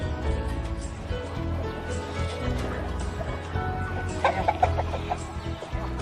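Hens cluck softly in short bursts amid low background noise, growing a little busier toward the end.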